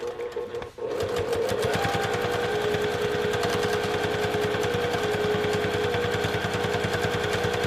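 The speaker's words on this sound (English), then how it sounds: "I'm going to back stitch right across those zipper teeth" A sewing machine back-stitches across zipper teeth on a small eyeglass case, running in a steady, rapid mechanical stitching rhythm from start to finish after a brief pause.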